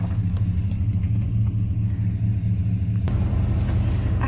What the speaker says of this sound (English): I'm driving this truck because it's got a fuel tank in the back.